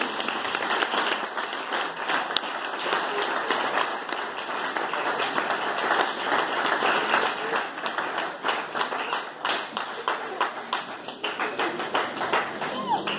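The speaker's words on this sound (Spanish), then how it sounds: "vamos a recibir con los sugieres con un fuerte aplauso en esta noche" A church congregation at a special youth evening service claps in a long, continuous burst of applause, many hands close and steady, with voices mixed in underneath.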